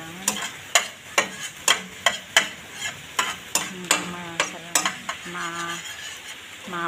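Garlic sizzling in hot oil as a spoon stirs it around a pan for Filipino pork adobo, with repeated sharp scrapes and clinks against the metal, one roughly every half second, over a constant close frying hiss.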